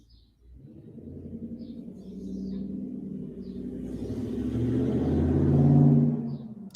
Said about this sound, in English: No, because your truck's so darn loud all the time